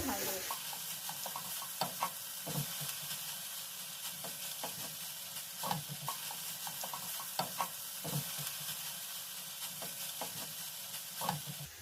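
Beef samosa filling is stirred in a sizzling pan, with a steady fry hiss and repeated scraping stirs at an irregular rhythm, close and fairly faint.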